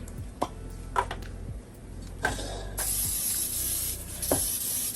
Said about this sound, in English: what I'm going to do next is coat our pan with our Baker's Joy